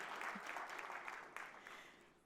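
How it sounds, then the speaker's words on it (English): At the closing and awards session of a CISO Forum conference, an audience claps and cheers in a continuous burst at moderate volume that tapers off toward the end. "I want to hear some cheering."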